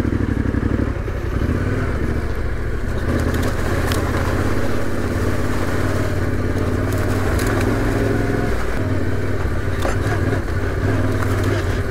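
A Yamaha Tenere 700 rumbles steadily along a bumpy, damp dirt track on a group ride, its engine drone loud and continuous with rattling clatter over rough ground.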